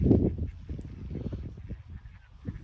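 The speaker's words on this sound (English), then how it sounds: "Loads of wildlife over the lakes, families feeding the ducks." Ducks on a lake call out in a loud, close quack at the start, followed by softer scattered quacks and honks from the waterfowl.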